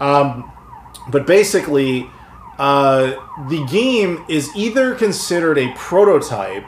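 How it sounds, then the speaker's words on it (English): Police sirens wail outside, a loud rising-and-falling tone that runs under someone talking close to the microphone. "Apologies for the sirens."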